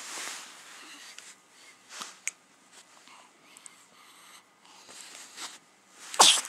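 A single person's sneeze near the end, sharp and close, after quiet breathy sniffs and soft rustling at low level indoors.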